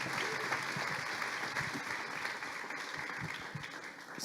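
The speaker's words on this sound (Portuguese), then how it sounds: "Vamos aplaudir ao Senhor pela vida do André e pela vida dos adolescentes." Church congregation at a Sunday evening service applauding together, a dense steady wash of many hands clapping that fills the room without letting up.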